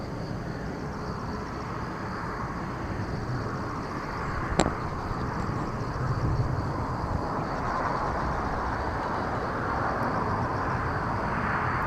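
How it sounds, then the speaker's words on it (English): A Boeing 787-10 Dreamliner bound for Hanoi sits on the ground at Incheon and gives off a steady, distant jet engine drone. A sharp click cuts in briefly partway through and the roar swells slightly near the end. "This is flight 417 going to Hanoi, 787-10 Dreamliner."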